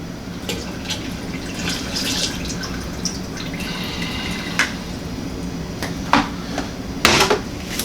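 Liquid yeast for a homebrew imperial weizenbock swishes in a container, with soft sloshes and drips under a low background hum, then a few sharper knocks and splashes near the end.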